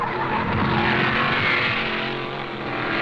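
Racing cars such as Cobras and Chaparrals roar steadily around the Watkins Glen road circuit in upstate New York, a loud continuous engine drone with hints of tire squeal throughout.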